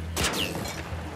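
A single sharp gunshot cracks out in the video game The Last of Us Part II, followed by a brief ringing tail and a short whistling sweep.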